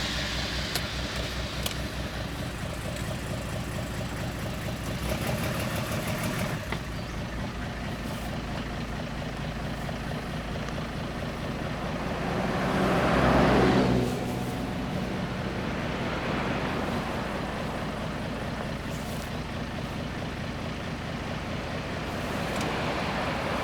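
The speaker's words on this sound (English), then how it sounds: "I snapped a couple of exhaust manifold bolts, so it sounds like a lawnmower," Car with a couple of snapped exhaust manifold bolts rumbling in a steady lawnmower-like drone for the whole stretch, swelling louder briefly near the middle as it passes close, with no talk.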